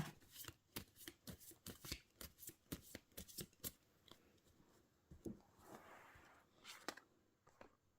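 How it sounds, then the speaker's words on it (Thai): Tarot cards are shuffled and cut by hand, giving a quick series of close, crisp riffling flicks and snaps in an uneven rhythm, followed by softer card handling. "ขอเป็นตัวแทนสับไพ่ตัดไพ่ ให้คนเกิดวันเสาร์ค่ะ"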